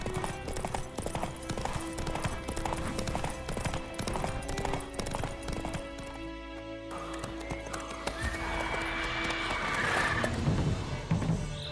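Hooves of a horse clip-clopping along in The Witcher 3: Wild Hunt, a steady rhythmic trot beneath a game music bed with a brief neigh, carrying on for the whole stretch.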